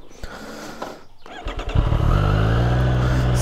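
A 2020 Triumph Street Triple 765 RS motorcycle starts with some rustling and clicks. Its engine then swells into a loud, close, steady low rumble that carries on to the end.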